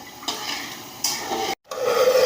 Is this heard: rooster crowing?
no